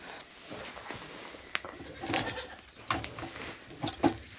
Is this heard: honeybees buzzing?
no